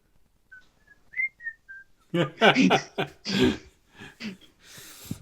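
A person whistles a short melody of a few clear, sustained notes, soft and alone, before louder talking and throat sounds break in.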